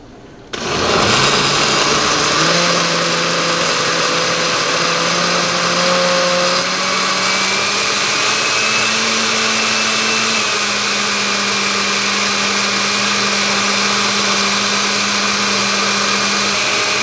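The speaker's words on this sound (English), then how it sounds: "and then we start blending." Kitchen blender whirring steadily as it purees fresh garden salsa with peppers, a loud continuous motor whine that shifts pitch slightly as the contents churn, running alone.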